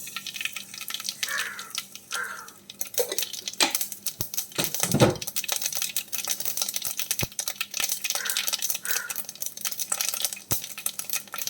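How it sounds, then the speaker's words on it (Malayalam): Mustard seeds crackle and splutter in hot oil for a fish curry while metal utensils clink and scrape against a pan, busy and close throughout. "എണ്ണ ചൂടായി കഴിഞ്ഞാൽ അതിലേക്ക് കടുക് ഇട്ട് കൊടുക്കുക."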